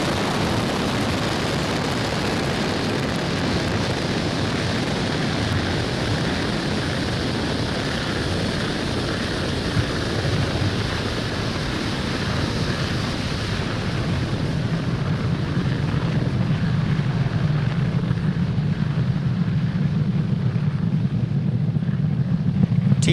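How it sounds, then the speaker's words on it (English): A SpaceX Falcon 9 rocket lifts off from Pad 40 at Cape Canaveral Space Force Station with a steady, loud, broadband roar of its engines. The roar holds constant and deepens slightly as the rocket climbs, with no talking over it. "Falcon 9 has successfully lifted off from Pad 40 at Cape Canaveral Space Force Station"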